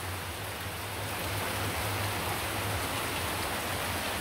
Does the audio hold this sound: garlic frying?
no